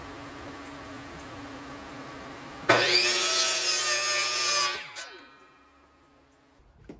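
A wooden clock part being sawn in a short burst of rasping strokes lasting about two seconds, loud and close, then tapering off into quiet.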